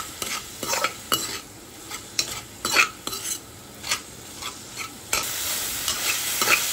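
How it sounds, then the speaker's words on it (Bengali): Chhana cheese being mixed by hand or spoon with salt, sugar and ground coriander in a bowl for stuffed Kashmiri aloo dum, giving repeated close scraping and stirring strokes with small clinks, no talking. "স্বাদমতো লবণ আর কিছুটা চিনি দিয়ে ভালোভাবে ছানার সাথে মিশিয়ে নিচ্ছি।"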